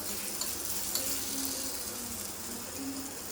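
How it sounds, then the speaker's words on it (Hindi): Tadka tempering sizzles in hot oil for a paneer dal, a soft steady hiss with faint stirring clinks under kitchen background noise and no talking. "पनीर की दाल है, ये तड़का है"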